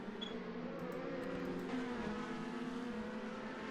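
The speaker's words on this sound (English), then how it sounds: "I do like the noise of these engines" DTM race cars in a sim racing game at Monza, a continuous high engine drone with steady whine and slight pitch shifts, sustained and fairly quiet without commentary.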